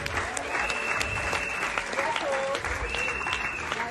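An audience at a Longrich business meeting applauds steadily, a dense, even wash of clapping that holds at the same level throughout, with a few cheers and voices mixed in.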